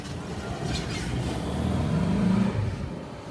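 A rusty 1959 Volkswagen 15-window bus drives down the road with a low engine drone that swells slightly as it passes, moderately distant under faint background noise.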